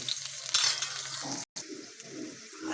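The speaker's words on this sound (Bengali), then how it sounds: "এবারে এই তেলে দিয়ে দিয়েছি আলুগুলোও লম্বাভাবে কেটেছি।" Long-cut potato pieces frying in a pan of hot oil, giving a steady, close sizzle and crackle with a brief dropout partway through and some faint bird calls in the background.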